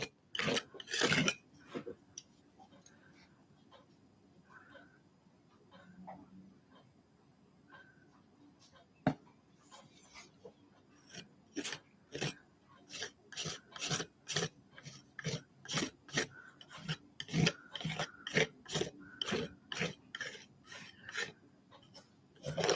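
A paint-loaded scraper is dragged across paper during a mail art session, producing a steady run of short rasping strokes that speed up toward the end, close and fairly quiet with no voice over them.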